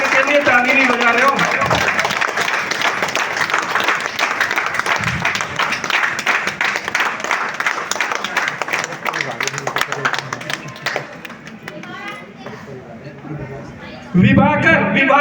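A large indoor crowd at a seminar claps in a dense sustained wash, loud throughout with talking over it, fading near the end before a sudden burst.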